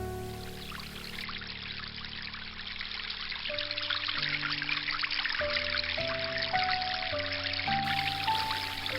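Flowing stream water in a Korean radio drama, a steady continuous trickle and pour, with soft background music notes rising in pitch underneath.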